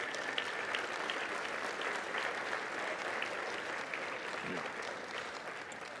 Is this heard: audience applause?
yes